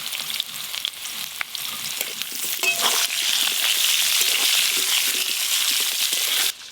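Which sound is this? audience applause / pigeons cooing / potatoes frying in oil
potatoes frying in oil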